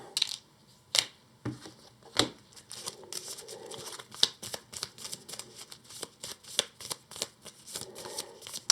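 Playing cards being shuffled for the Earthborne Rangers board game, a close run of crisp riffling bursts and snaps, sharp separate flicks at first, then a denser rapid patter, quiet and with no talking.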